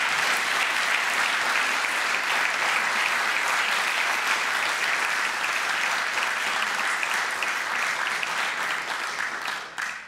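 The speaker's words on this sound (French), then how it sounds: "Ça fait du bien d'entendre les applaudissements." A group at an open-school ballet class led by Gil Isoart breaks into sustained, dense applause that holds steady for about ten seconds before tapering off at the very end.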